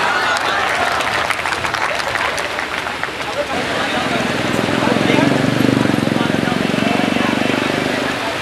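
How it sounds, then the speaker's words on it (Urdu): Audience clapping at a live event in Moradabad, a dense, sustained applause that swells louder midway and carries on without pause. "زوردار تالیوں سے ان کا استقبال کیجیے"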